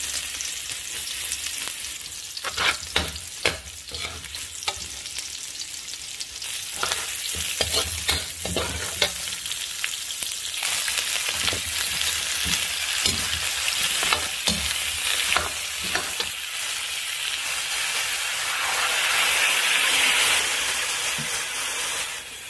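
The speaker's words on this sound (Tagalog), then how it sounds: "Igigisa na natin siya." Goat meat sautés in a pan for a coconut-milk goat adobo, giving a steady loud sizzle and frying hiss with stirring scrapes throughout, building slightly toward the end, with no talking.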